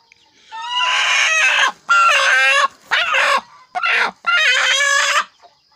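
A brooding hen sitting on a clutch of eggs on a small farm gives loud, close, drawn-out clucking calls in several long bursts separated by short pauses.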